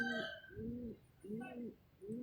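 Racing pigeons coo in a loft, a repeated low, throaty rolling call heard close and fairly quiet, several coos in a steady rhythm.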